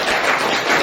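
Applause from a classroom audience of teachers and students during a teaching practice session, a dense steady patter of many hands clapping at once for a short burst.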